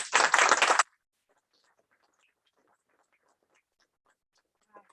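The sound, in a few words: audience applause for author at book launch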